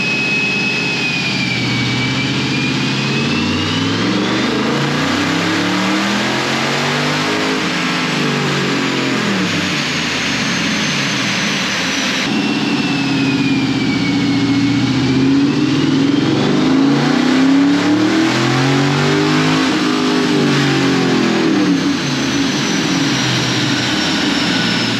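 Dodge Charger 392 Scat Pack V8 revving hard on a dyno, two long loud pulls with pitch climbing and falling, steady heavy engine roar throughout with no talk.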